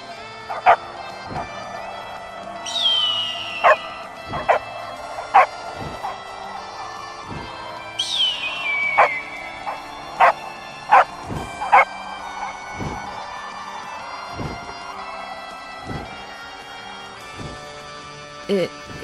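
Several dogs bark and yip in short bursts at a steady irregular pace, moderately close, over ongoing talk and background chatter, with a couple of rising whistle-like swoops.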